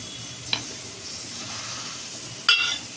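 Stuffed bitter gourd going into hot oil in a kadai, a faint low sizzle with two brief bright metallic clinks, one early and one louder near the end.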